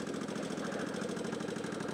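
A 2000 Kawasaki VN15 motorcycle, nicely rusted with 32K on it, runs at a steady idle close by, a regular low thudding beat with a mechanical clatter riding on top, even and unbroken throughout.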